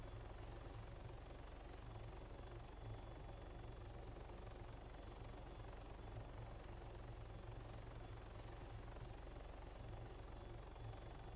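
A training helicopter hovers in flight, giving a low, steady, even rotor-and-engine drone that is continuous and faint, with no voices heard.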